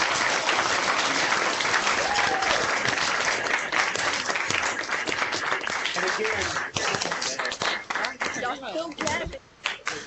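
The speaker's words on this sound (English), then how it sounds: "join me and give a warm round of applause to Hall of Famer Art Monk?" An online audience with microphones unmuted applauds Hall of Famer Art Monk: dense, continuous clapping mixed with voices that thins and turns patchy toward the end.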